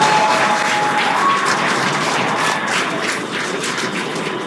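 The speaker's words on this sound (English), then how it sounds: "I have a feeling the crowd is about to go wild." Steady, dense roar of a crowd cheering and applauding as a SpaceX Polaris Dawn spacewalk is shown, sustained and loud throughout with no clear voices standing out.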